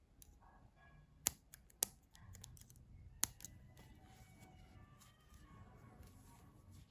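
Scissors snipping yarn at a crochet table, three sharp quiet clicks spaced about a second apart against a faint room background.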